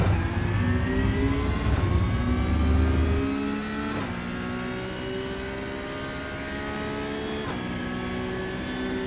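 Porsche 911 Cup (992) GT3 engine in the iRacing simulator at Monza, revving up steadily through gears with a loud, close, rising whine, brief dips at each upshift, no talking.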